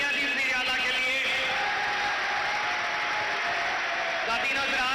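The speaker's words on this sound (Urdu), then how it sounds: "بھرپور تالیاں دی وزیر اعلیٰ کے لیے" Applause from an audience for the Chief Minister of Punjab, Shehbaz Sharif, at a self-employment programme event, a steady dense clapping wash that continues throughout with crowd noise and voices mixed in.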